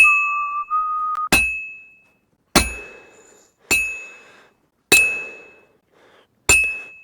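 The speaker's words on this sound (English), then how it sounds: "I have to hammer it more evenly." Metal being hammered at a blacksmith's forge in Kingdom Come: Deliverance II, five sharp ringing clanks spaced about a second apart, each leaving a bright decaying ring, preceded by a short whistling tone.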